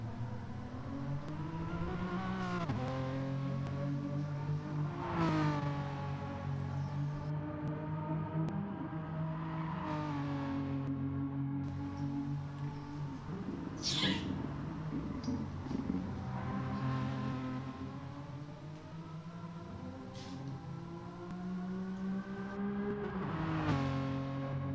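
Renault Megane race car at Tsukuba in a racing game, the engine repeatedly revving up through the gears and dropping off under braking, a close, steady in-car drone with sharp rising sweeps.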